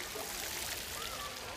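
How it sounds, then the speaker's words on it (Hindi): Small decorative garden fountains at a palace garden in Udaipur splash and pour in a steady, continuous hiss of falling water, fairly close and even in level, with no clear speech. "ये छोटे छोटे जो फाउंटेन है वो बड़े अच्छे लग रहे हैं"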